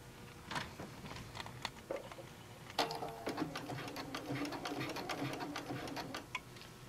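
A sewing machine stitches along the elastic of a knit headband, a quiet run of rapid ticking needle strokes with brief pauses and restarts, close by and low in level.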